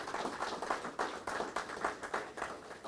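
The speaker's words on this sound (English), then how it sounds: "So let's give him a round of applause for that." Applause from an audience at a sod-turning ceremony for a football venue, a moderate crowd clapping with individual claps audible in a brisk, uneven patter for a few seconds.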